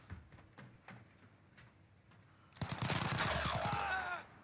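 Video game gunfire from a two-round burst Odin rifle, quiet scattered taps at first and then a dense, loud volley of rapid shots for about two seconds, with a player talking in between.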